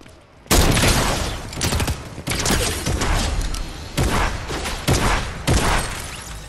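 Fortnite gunfire: a rapid series of loud, sharp shots in bursts, each with a short echoing tail, with no talking over them.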